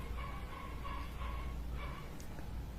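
A dog tied up by a door barks in a few short, spaced bursts, fairly distant and soft over a constant background hum, with no one speaking.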